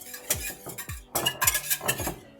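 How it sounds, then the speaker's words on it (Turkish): A utensil whisks yogurt with crushed garlic in a bowl, giving quick irregular metallic clinks and scrapes against the bowl's sides, close and fairly loud over a couple of seconds, with no one talking. "Şimdi ben yoğurdumu çırpıyorum."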